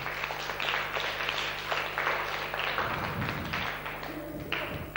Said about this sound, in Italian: facciamo un applauso anche a lui